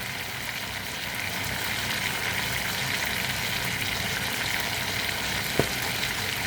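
Mushrooms sweating in a pan give off a steady, even sizzle that holds for the whole stretch, with one brief sharp tap near the end.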